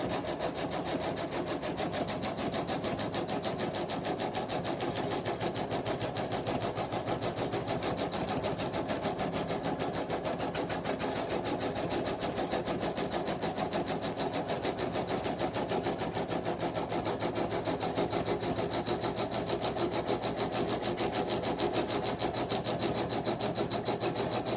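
A sewing machine stitches an applique outline onto a hooded towel, running in one steady, continuous drone throughout with no pauses and no talk.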